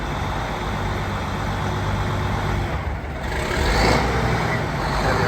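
An old vehicle with a quirky gearbox runs loudly and close by in a wet place. Its rough engine roar is steady and swells slightly as it goes into gear.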